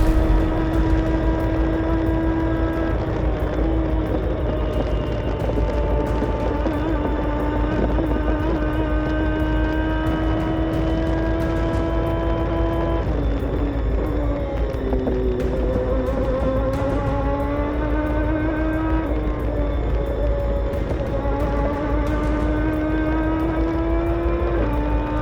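Race car lapping a track in a sim racing video game, its engine a loud continuous whine that climbs through the gears, drops sharply on upshifts and braking, then rises again in repeated sweeps across the lap.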